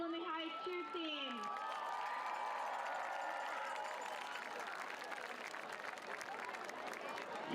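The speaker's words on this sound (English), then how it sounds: "Let's give one more round of applause for our Petaluma High cheer team." A stadium crowd at a high school homecoming football game applauding and cheering the Petaluma High cheer team, a dense, steady wash of clapping and shouts that follows a short stretch of announcer speech.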